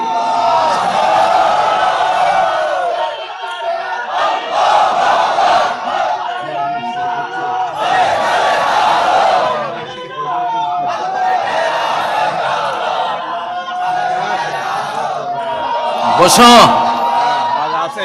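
A crowd at an Islamic religious sermon gathering shouts a takbir chant in loud, rhythmic collective bursts, each rising and falling, with a brief sharp clatter near the end.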